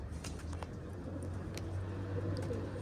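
Pigeon calling nearby, low repeated cooing over a steady outdoor hum, with a few faint higher chirps.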